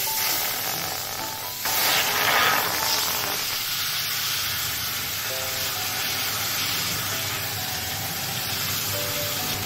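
Semi-ripe mango pieces drop into hot oil tempered with five-spice (panch phoron) for a mango chutney, setting off a loud, steady sizzle that swells briefly as they go in, then hisses on evenly with faint stirring.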